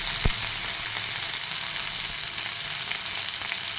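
Steady, close sizzle of green chilies and onions frying in oil with mustard and cumin seeds, a continuous hiss with no one speaking.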